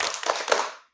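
A class of students clapping together in a quick, rhythmic group cheer, a short burst of dense, loud claps that stops abruptly.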